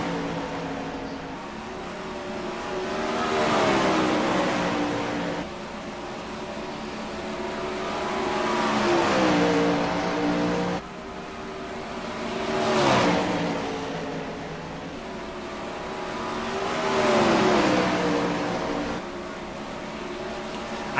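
410 sprint car engines race at Eldora in the iRacing video game, with the nearby engine note climbing and falling in repeated rising revs and shifting pitch, loud and continuous around the track.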